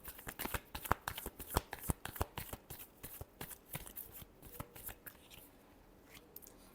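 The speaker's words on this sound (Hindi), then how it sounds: "Last shuffle." Tarot cards being shuffled by hand, a quick run of crisp riffling flutters and slaps, close and fairly loud, fading toward the end.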